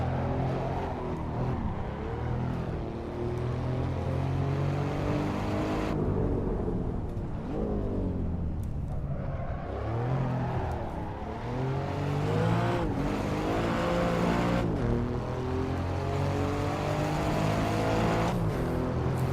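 An Alfa Romeo Giulia Quadrifoglio's turbocharged V6 in the Assetto Corsa racing game, revving hard and continuously with repeated rising and falling pitch sweeps as it accelerates and shifts, steady and loud without talk.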